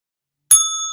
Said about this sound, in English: You need to ring the bell.